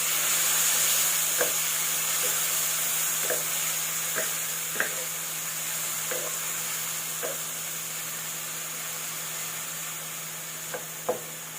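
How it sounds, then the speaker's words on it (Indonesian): Squid sambal with petai bean paste frying in a pan, a steady smoky sizzle with repeated scattered scrapes and taps of a spatula stirring, close and unaccompanied by speech. "Berasap. Kita aduk-aduk."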